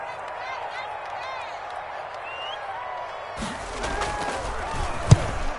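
In a football video game, a commentator speaks over a soft crowd murmur, then cheering and clapping swell up in the second half, with a sharp slam near the end.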